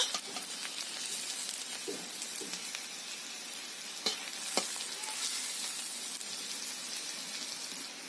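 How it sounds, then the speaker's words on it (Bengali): Onions sizzling and frying in oil for chicken do pyaza, a steady close crackle with occasional stirring scrapes and no talk. "পেঁয়াজগুলো লাল লাল করে ভেজে নিতে হবে।"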